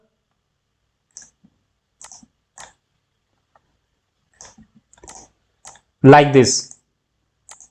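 Computer keyboard arrow keys and a mouse click softly while slicers are nudged into place in Power BI, giving sparse, light, scattered taps with long quiet gaps and one short burst of speech near the end.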